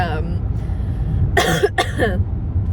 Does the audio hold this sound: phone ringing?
no